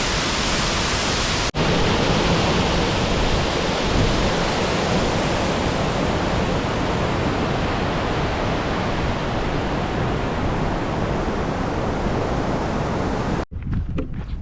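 Long Creek Falls on the Appalachian Trail roars as a loud, constant wash of falling water, steady and unbroken at close range.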